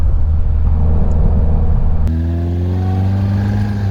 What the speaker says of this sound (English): As we get up to speed here, whoops, a little grind in second gear.